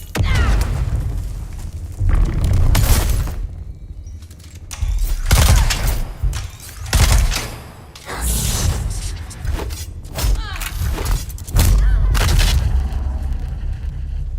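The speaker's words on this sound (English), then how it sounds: "Grenade." A grenade explosion and gunfire in the video game Dune Awakening: repeated heavy booms and bursts of shooting over a long stretch, with loud blasts coming in waves and brief lulls between them.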